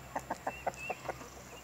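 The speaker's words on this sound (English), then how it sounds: "Beautiful, beautiful chickens." A hen clucks in a quick series of about seven short, evenly spaced calls, fairly close, with a faint steady hum underneath and no talking.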